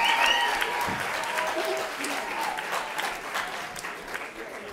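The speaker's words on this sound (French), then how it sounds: "Je crois qu'on peut aussi l'applaudir très fort." An audience at a French high school boarders' arts evening bursts into loud, dense applause, steady for the whole stretch with a faint murmur of voices beneath.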